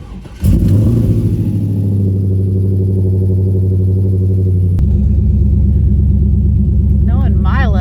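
A car that has sat unused for about a month cranks and fires, then settles into a loud, steady rumbling idle that shifts pitch partway through, with a voice speaking briefly near the end.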